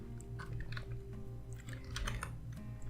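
Quiet, rapid clicking of keys on a computer keyboard, a steady stream of close taps with no voices.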